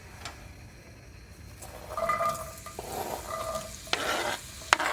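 Garlic, chili pepper, celery and carrots sizzle in oil in a pan for a Neapolitan soffritto. The frying is light and close, with stirring and clinks of utensil against pan.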